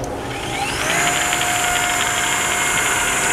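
A Brown & Sharpe universal I.D./O.D. cylindrical grinder starts up, with a whine rising in pitch over about a second before settling into a steady, loud running drone with a constant hum beneath.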